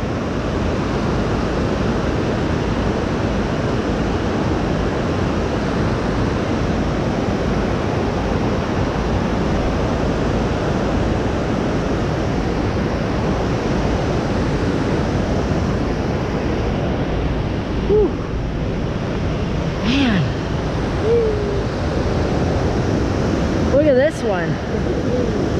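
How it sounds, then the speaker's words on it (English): Large waterfall in a Luigi video game, heard as a loud, steady broadband rush of falling water that fills the whole stretch, with a few brief game sound effects near the end. "That's a big waterfall right there."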